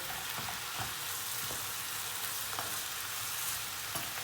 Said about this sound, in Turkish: Hemen şöyle bir karıştırıyoruz.